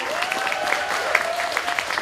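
Applause from a fan convention audience, a steady wash of clapping with a few sharper claps standing out, fairly close and moderately loud, with a faint sustained tone running underneath.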